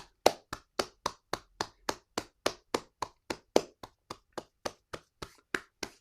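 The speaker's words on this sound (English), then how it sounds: "give yourselves a round of applause" Clapping from online meeting participants comes as crisp, close, evenly spaced single claps, around twenty in a slow steady rhythm with brief silence between each.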